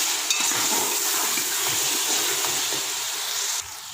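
Beef biryani bubbles in a pot as turmeric and dried coriander are mixed in, making a steady close sizzle and hiss with soft stirring scrapes throughout. The sound eases slightly at the end.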